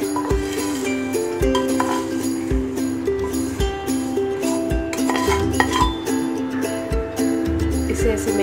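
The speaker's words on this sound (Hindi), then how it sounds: "इसे ऐसे मिक्स करते रहेंगे।" Vermicelli being stirred into boiled milk in a metal pot for sheer kurma, a spoon scraping and clinking against the pot in a regular rhythm, close and fairly loud over steady background music.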